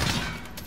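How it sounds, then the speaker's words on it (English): A gunshot fired in Modern Warfare, a loud, dense burst of gunfire right up front, fading into a lingering noisy tail as the shot echoes out, with no voices over it. "He shot the mannequin!"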